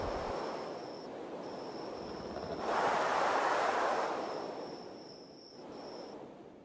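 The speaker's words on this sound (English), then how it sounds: "waterfall" Steady broadband rush of a waterfall in the video game Ark: Survival Evolved on the Ragnarok map, swelling louder midway alongside a thin continuous tone, with no talk.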